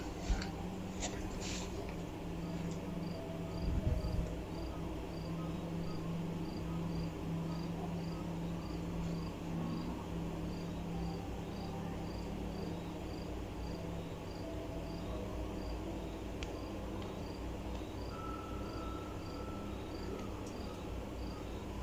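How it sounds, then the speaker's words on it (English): Crickets chirp steadily in woods at night, a continuous high trilling spread across the whole stretch, with a faint low background rumble and a brief soft knock early on. "I think I hear something, but mostly just crickets."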